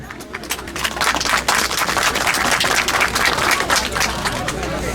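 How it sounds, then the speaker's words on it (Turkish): An audience at a building opening ceremony breaks into loud sustained applause, a dense wash of many hands clapping close by for about five seconds, with crowd murmur underneath. "Daha büyük bir alkışla"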